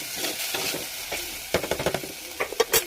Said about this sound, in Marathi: हळद, मीठ आणि आलं, लसूण, हिरवी मिरचीची पेस्ट घालून तेलामध्ये व्यवस्थित फ्राय करून घ्यायचा आहे